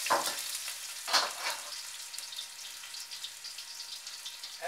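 Sliced onion sizzles and crackles in a hot pan for mushroom egg foo yung, a steady hiss broken by a few louder bursts of stirring near the start, close and with no talking.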